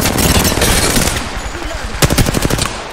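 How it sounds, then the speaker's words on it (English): Rapid automatic gunfire from Apex Legends crackles loudly in fast repeated bursts, with a brief lull before another tight volley of shots. "They're shooting at me."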